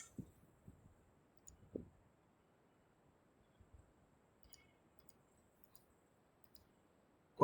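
A computer mouse gives a few soft, close clicks early on, then a long quiet stretch with only faint tiny ticks in a still room.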